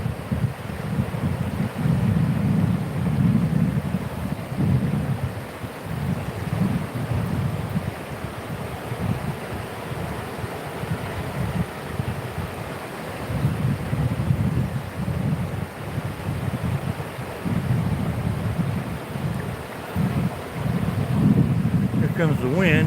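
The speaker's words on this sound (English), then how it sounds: "Here comes the wind" Strong wind gusting over an outdoor fishing spot by rocks and water, a deep roaring rumble that swells and fades in waves and buffets the microphone throughout.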